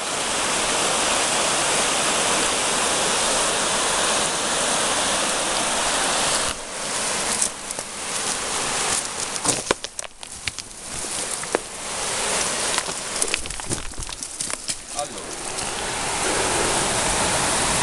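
Steady roar of the Rio Sant'Angelo waterfall at Bolognano, a dense, continuous rushing of falling water heard close and loud throughout, with brief dips and shifts in the spray midway.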